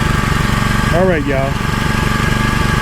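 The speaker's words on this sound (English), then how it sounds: "It's a Craftsman CR950 with a Briggs & Stratton engine." A Craftsman CR950 pressure washer with a Briggs & Stratton engine runs close by, its even, throbbing drone holding steady while someone briefly speaks over it.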